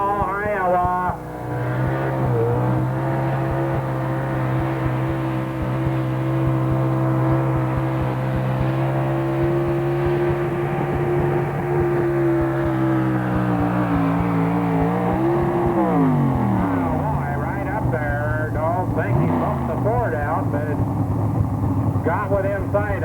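The Vanishing Breed pulling vehicle, driven by Mike Thompson of Grinnell, Iowa, runs on a small Dodge motor. It gives a loud, sustained engine roar that holds steady, then dips and swings in pitch toward the end, with an announcer talking over it.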